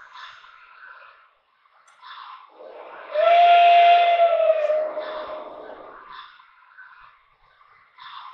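A small steam whistle gives one sustained, slightly wavering toot lasting about two seconds, with soft hissing steam before and after.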